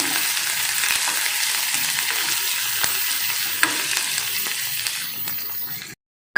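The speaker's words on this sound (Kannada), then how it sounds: "ಈರುಳ್ಳಿ ಚೆಂದಾಗಿ ಫ್ರೈ ಮಾಡ್ಕೊತೀನಿ" Chopped onions sizzle and fry in a hot pan, a steady dense crackle with occasional stirring clicks, loud and close, with no talk, before cutting out abruptly near the end.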